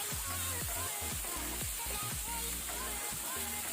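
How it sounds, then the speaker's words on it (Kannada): Prawns fry on high flame in a pan, giving a steady loud sizzle with intermittent stirring scrapes throughout. "ಈಗ ಇದನ್ನು ನಾವು ಫ್ರೈ ಮಾಡ್ಕೊಳ್ಳುವ ಹೈ ಫ್ಲೇಮಲ್ಲೇ."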